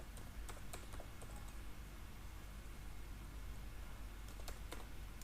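Quiet, irregular keystrokes from a computer keyboard as code is typed, with scattered clusters of clicks over a faint steady hiss and no talking.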